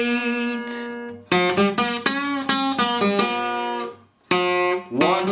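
Acoustic guitar playing an eight-note blues lick: a series of ringing plucked notes in a halting rhythm, close and clear, with a short pause before the final notes resolve.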